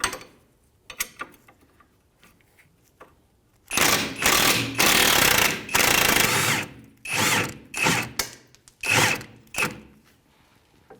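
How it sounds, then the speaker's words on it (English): Impact wrench on a 19 mm rear shock absorber bolt of a 2015-2019 Hyundai Sonata, firing in several loud hammering bursts of varying length after a few faint clicks, with short pauses between. "We're going to back up the other side with a wrench and an impact on this side."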